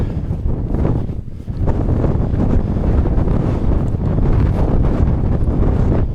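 Strong wind on an open fell walk in the Coniston area on a scorching day, buffeting the microphone in a loud, continuous roar with gusty surges, no talk.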